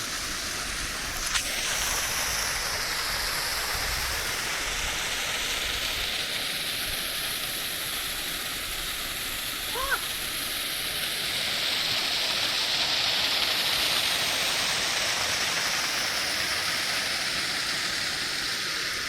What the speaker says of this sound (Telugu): ఈ కొండపై నుంచి వాటర్ మొత్తం కిందికి జారుతుంది